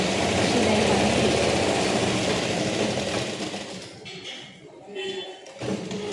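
A sewing machine runs steadily while stitching a seam on patiala pants, a close, whirring mechanical drone that fades briefly near the end before picking up again. Someone speaks over it.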